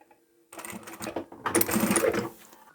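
A sewing machine top stitches across a fabric napkin holder, a short run of fast, close mechanical stitching that starts abruptly and grows busier toward the end.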